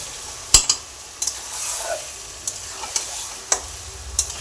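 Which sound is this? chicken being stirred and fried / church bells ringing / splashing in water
chicken being stirred and fried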